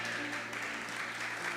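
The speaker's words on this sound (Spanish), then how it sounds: "aplauda bien fuerte" A church congregation claps together during a Sunday celebration service, a faint but steady patter of many hands sustained throughout the short stretch.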